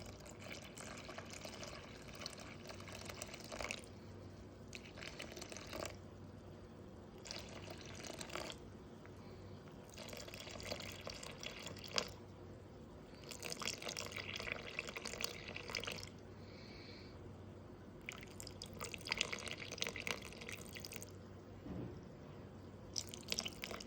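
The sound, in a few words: lukewarm water poured into a bowl on a scale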